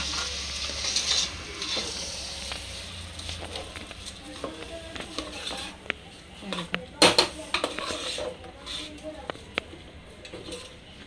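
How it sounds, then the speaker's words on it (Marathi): Washed rice being stir-fried with cooked prawns in a pan, with repeated scraping spatula strokes, clinks of utensil on metal and a soft underlying sizzle, one sharp clatter midway. "आता ह्यात आपण जो धुवून ठेवलेला होता तांदूळ तो घालायचा आणि व्यवस्थित ह्याला पण परतवून घ्यायचं"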